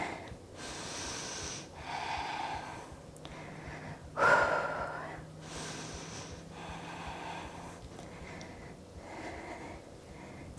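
Slow breathing during a yoga flow, a few soft breaths spaced across several seconds with one sharper inhale-exhale near the middle, close and quiet.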